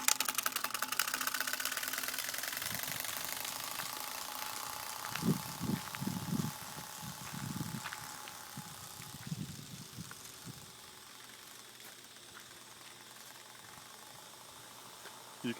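A bicycle fitted with a Turbospoke muffler gives a quiet, rough buzzing that comes in uneven pulsing bursts as it is ridden, then thins out, with a voice faintly present.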